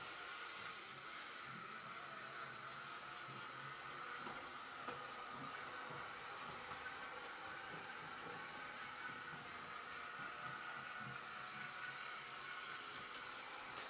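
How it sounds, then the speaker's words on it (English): A vintage Lego 4.5 volt toy train runs around its track with a steady, faint whirring hum and soft rattling clatter, continuous and even throughout with no voices. "let's just enjoy watching this train go around for a little while"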